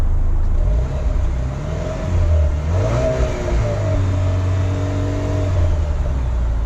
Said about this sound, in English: hold the remote start button, and then that 2-liter turbo will fire right up